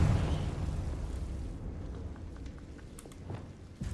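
A Confringo spell explosion in a Harry Potter video game opens with a deep rumbling boom that fades into a low crackling tail, with faint clicks scattered afterward.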